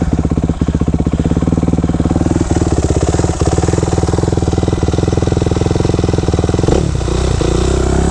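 A 2005 Kawasaki KX 250F dirt bike engine runs loud and close in a steady, rapid idle, then briefly blips and changes pitch near the end.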